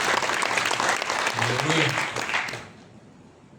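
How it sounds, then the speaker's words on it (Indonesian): Congregation applause during a Pentecost Sunday church service, dense sustained clapping with a voice calling out over it, then tapering off abruptly near the end. "tepuk tangan buat Yesus penyelamat yang luar biasa"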